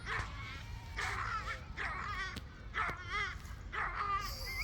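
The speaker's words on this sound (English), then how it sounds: "that's just a dog barking." A dog barks repeatedly in steady, evenly spaced barks at a moderate distance outdoors, with faint background noise between them.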